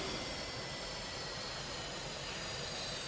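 Steady broadband roar of an F/A-18's right jet engine spooling down during a flight sim shutdown, continuous and loud with a faint high whine, no voices.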